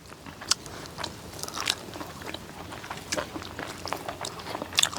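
Someone eating fried dry fish in tomato curry, biting and chewing through small crunchy fried bones: close, wet crunches and crackly chews repeating steadily, with faint voices in the background.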